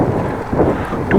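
Headwind buffets a cyclist's microphone on a ride from Appingedam to Groningen, a loud continuous low rumble that swells and eases with the gusts, with no voice heard.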